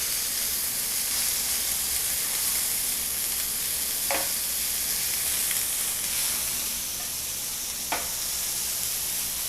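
Vegetables sizzle and hiss steadily on a small grill pan, a close, even frying crackle with a couple of brief sharper pops.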